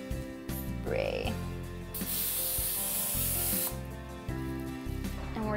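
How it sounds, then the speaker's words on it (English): Cooking oil from an aerosol can sprayed onto plastic wrap in a kitchen, a single close, loud hissing burst lasting under two seconds, with squeaky rubbing of the wrap and a low hum before and after. "saran wrap that has been sprayed with cooking oil"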